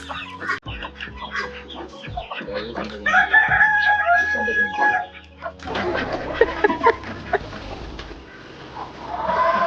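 Fighting rooster chicks on a Theni farm, crowing and clucking in repeated bursts, near and loud, with a voice or two briefly in the mix and the calls growing harsher toward the end.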